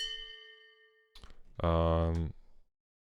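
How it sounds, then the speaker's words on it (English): A ship bell sound effect for a game soundtrack, a short faint metallic ring with sustained harmonic tones fading, followed by a louder, fuller clang-like tone lasting under a second before it stops. "we wanted to have a ship bell, so we had this sound"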